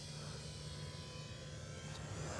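A 400 mm RC Eachine BF109 model airplane drones overhead during a strafing run, a faint continuous motor whine over steady outdoor wind noise.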